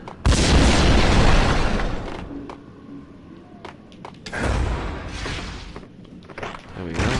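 A big explosion in the video game Max Payne: a loud, sustained boom with a rumbling tail, quieter debris and clatter after it, then a second heavy rumble.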